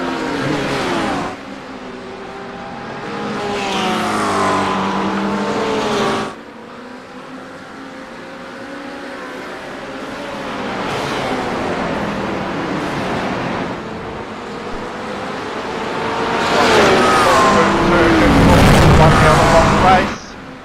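Porsche GT3 race cars scream past on a circuit, engines rising and fading as they pass, with the loudest, nearest pass near the end, all under continuous commentary from a race announcer.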